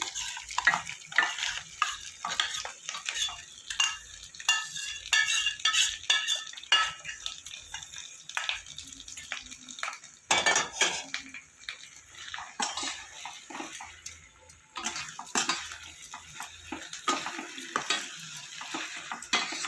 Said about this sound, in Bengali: এবার আমি এই সয়াবিনটা মাখিয়ে রেখেছিলাম দই দিয়ে, এটাকে দিয়ে দেবো।